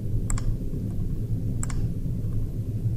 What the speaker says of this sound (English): I just have to click on it to see this other information